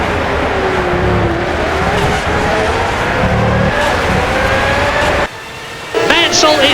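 Williams Formula 1 car with a Renault V10 engine in the rFactor 2 racing game, 1991 French Grand Prix at Magny-Cours, roaring loudly and steadily past, then briefly cutting out before surging back.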